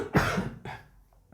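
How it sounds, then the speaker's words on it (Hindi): A single harsh cough followed by a shorter second cough, close and fairly loud, with no talking. "ये खांसी ने बड़ा ही परेशान कर रखा है"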